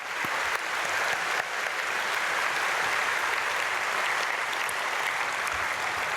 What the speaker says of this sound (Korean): 오늘 앞에 앉아있는 우리 사랑하는 자녀들을 위해서 박수로 축복하겠습니다